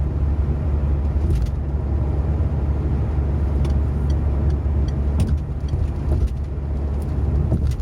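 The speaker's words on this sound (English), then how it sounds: "So we're going uphill. You could probably sense it with the noise of the car." Car engine droning steadily while climbing uphill on a motorway (M74/M73/M80 toward Stirling), with constant low rumble and road noise throughout, close and continuous, no voices.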